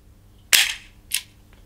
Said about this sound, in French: Donc là, normalement, ça va tirer sur le canon du bas.